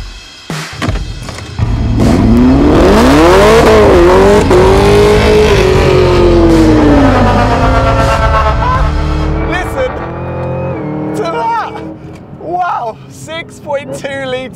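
Supercharged Chevrolet Camaro ZL1 accelerating flat out around the Rockingham race track, its loud V8 engine roar rising in pitch through the gears with sustained high volume, then easing off toward the end.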